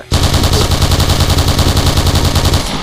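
Sustained automatic fire from an L86LSW rifle in the shooter game Point Blank, a loud, rapid and evenly spaced stream of gunshots hammering close up for nearly three seconds without pause.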